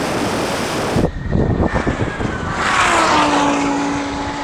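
A Lamborghini Huracan and a Rimac Nevera drag racing, a loud rushing roar as the cars launch and pass, with rising and falling engine and motor whine fading as they pull away.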